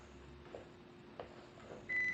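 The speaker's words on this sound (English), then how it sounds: "it's done preheating. I was like, what is that beeping sound?" A single steady electronic oven beep signals preheating is done near the end, over faint kitchen background noise and a few soft clatters.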